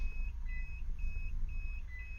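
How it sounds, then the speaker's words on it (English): A series of short high-pitched electronic beeps from a 2009-2014 Toyota Prius during key registration via OBD, repeating at regular intervals over a low rumbling background. "Now we're going to listen to the beep twice."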